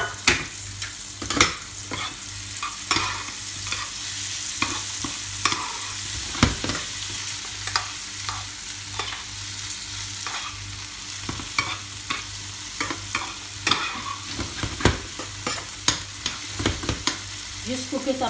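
Red onions sautéing with asparagus in a pan, a continuous sizzle broken by frequent scraping and clattering strokes of a utensil stirring the mixture, close and fairly loud with no voices.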